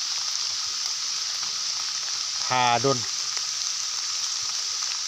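Continuous rain patters with a soft, constant hiss on a dim day at a pig-pen building site, interrupted by a short spoken word partway through.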